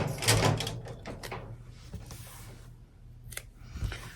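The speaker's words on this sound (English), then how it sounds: "get this tape off" Adhesive tape peeled off the underside of an embroidery hoop after stitching, giving a few close, rasping pulls and crinkles at the start, then quieter handling, with another short tearing rip near the end.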